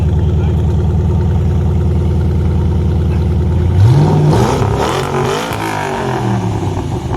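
Ford Mustang engine revving hard, with a steady idle drone that climbs sharply into loud, repeated revs before settling, close-up and with no talk over it.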